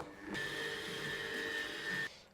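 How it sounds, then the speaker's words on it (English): A blender whirs at a steady high pitch for about two seconds, starting and stopping abruptly, while making crêpe batter. "And meanwhile it's blending, it will be noise."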